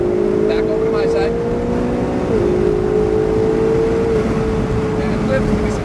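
A Ferrari 488 GTB on a track gives a loud, steady engine drone that holds its pitch, steps down briefly as it shifts, then climbs again.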